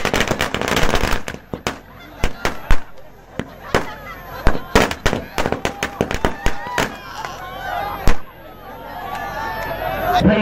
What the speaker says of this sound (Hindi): कहीं पटाखे फोड़ कर मैं देख रहा हूँ कि यहाँ के लोग वेलकम कर रहे हैं